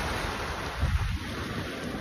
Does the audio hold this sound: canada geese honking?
no